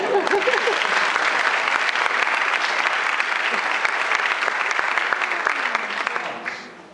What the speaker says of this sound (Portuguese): Eu adoro palmas,